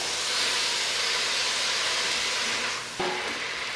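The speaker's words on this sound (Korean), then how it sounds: "미역은 물기가 어느 정도 없어질 때까지 볶아주면 됩니다." Soaked seaweed stir-frying in a pot for beef seaweed soup, a continuous broad hiss of steam and sizzle, close and even, with a brief clunk near the end.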